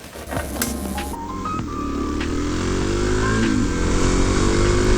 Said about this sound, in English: The bike is running pretty great.